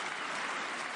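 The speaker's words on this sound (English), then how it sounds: "Goes to the bench with 9 points and gets a hand from this Rutgers crowd." A home Rutgers basketball crowd applauds steadily as a player heads to the bench after fouling out, the dense, even clapping filling the arena without pause for the whole second.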